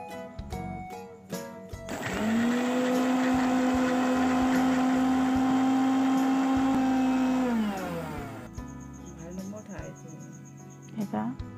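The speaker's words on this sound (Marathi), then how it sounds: "लसूण आलं आणि हिरव्या मिरचीची आपण पेस्ट काढून घेऊ" A kitchen mixer grinder whirs loudly for several seconds, reducing garlic, ginger and green chilies to a paste. It spins up, holds a strong steady whine, then winds down, with clinks and handling noises before and after.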